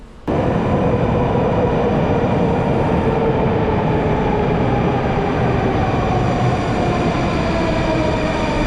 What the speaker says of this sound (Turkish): Tam da Sovyetlerden kalma bir trene bindik.